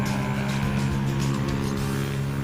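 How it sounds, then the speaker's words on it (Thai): Steady, loud car engine drone with a low rumble and a broad whooshing hiss, running continuously without pause. "ขอโทษขออภัยเนาะครับ เสียงรถดังเนาะครับ"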